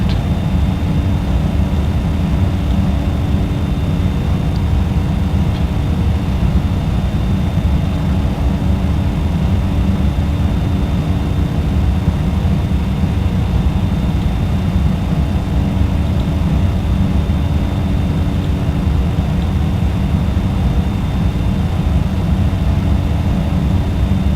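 Steady, loud drone of a Cessna's piston engine in flight in a flight simulator, a dense low rumble with a faint thin whine above it, holding constant with no breaks.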